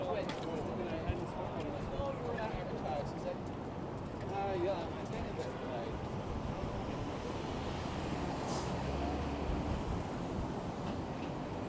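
Gusty wind buffets an outdoor microphone on a Toronto street on a March evening, a steady low roar under someone talking.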